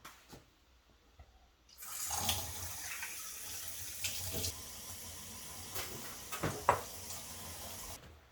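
Tap water runs steadily into a sink while Harley-Davidson DK Customs external breather parts are washed with dish detergent, a continuous close splashing rush with a few clunks and knocks of handled parts, no talking.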